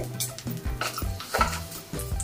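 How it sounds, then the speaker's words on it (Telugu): Urad dal tempering in hot oil, a close sizzle broken by several quick stirring scrapes and clinks of a utensil on the pan, no voices. "ఆయిల్ కొంచెం వేడైంది కదండి, మినపప్పు వేసుకుందాం"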